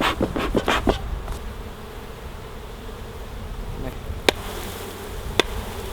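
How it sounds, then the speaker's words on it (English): Honey bees swarm and buzz around an open beehive during a hive inspection, a steady dense drone filling the space close by, with a few sharp clicks and knocks from handling the hive. "The whole bottom is covered with bees and the walls are covered with bees"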